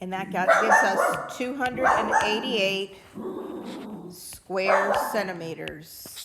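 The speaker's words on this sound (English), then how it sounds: "Sorry about the dog." A dog barks repeatedly in the background, partly under a person talking through a geometry lesson on surface area.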